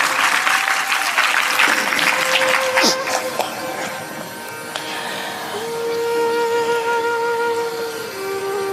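Audience applause at a Hindu devotional satsang sermon, a loud burst of clapping that fades into a softer, sustained patter with a faint tonal hum beneath.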